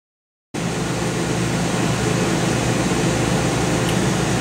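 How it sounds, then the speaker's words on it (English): After a brief silence, a hair dryer starts abruptly in a lab, a steady loud blowing whoosh holding constant close by. "I'll go get a hairdryer."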